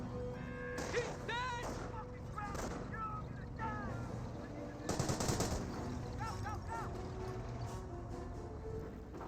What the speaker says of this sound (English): That must have been a captured MG42 from right here.